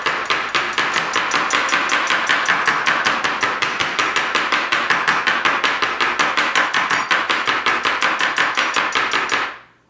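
Parsley is chopped rapidly on a board with two knives held in one hand, producing a fast, even stream of close, crisp knife strikes that stops abruptly at the end, with no talking.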